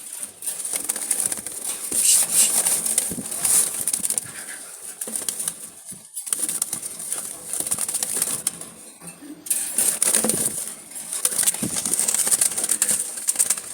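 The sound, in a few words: Jalali pigeons in a loft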